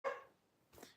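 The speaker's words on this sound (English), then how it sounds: "That's the dog, one of the dogs you're hearing upstairs." A dog barks upstairs, two faint, muffled barks about three quarters of a second apart, with quiet between them.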